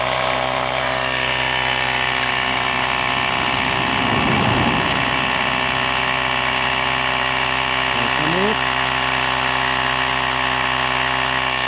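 A small battery-powered electric pump runs steadily while inflating a bicycle tyre's inner tube, a constant buzzing motor whine with strong humming tones, close and fairly loud, with a brief rising pitch shift near the end.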